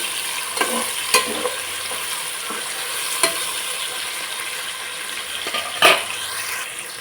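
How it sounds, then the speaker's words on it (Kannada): Vegetables for a veg biryani fry in oil with a continuous close sizzle, punctuated by a few sharp spatula knocks and scrapes against the pan and one louder stir near the end, with no talk. "ಸೊ ಇದು ಕೂಡ ಎಣ್ಣೆಲಿ ನೀಟಾಗಿ ಫ್ರೈ ಆಗಲಿ"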